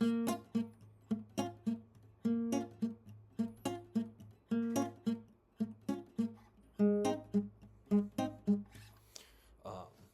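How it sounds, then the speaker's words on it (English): A classical guitar plays a rhythmic reggae organ 'bubble' shuffle, fast clipped chord strums in a steady repeating pattern with alternating low and high hits, bright and close with no talking. "So this is mimicking the sound that the organ player makes in a reggae band."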